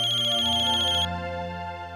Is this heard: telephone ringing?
yes